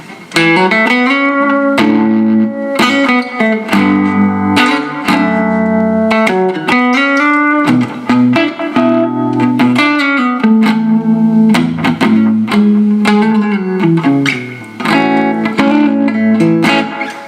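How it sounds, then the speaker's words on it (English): Clean electric guitar notes and chords ringing out through subtly set echo and reverb pedals with a soft echo and reverb tail, played steadily and close, with no voices. "I have my echo pedal on, my reverb pedal on, all sort of set very subtly."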